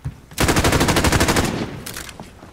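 A P90 submachine gun fires in a multiplayer video game: one loud rapid-fire burst of about a second, then a shorter, fainter burst.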